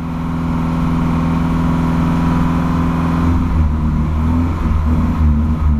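Engine of a VW Voyage, the old boxy model, revving hard and steadily, a loud, close drone that holds its pitch with slight wavering toward the end, no talking.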